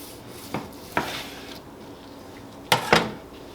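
Smoked wagyu beef brisket flat sliced with a knife on a board, giving four short scraping strokes, two close together early and a quick pair near the end, against a quiet background.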